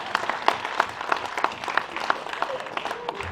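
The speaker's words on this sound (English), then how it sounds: "Give Lexi a big round of applause." Applause breaks out at a wildlife fundraiser auction, a crowd of hands clapping briskly and steadily throughout, moderately loud and close, with no voices rising above it.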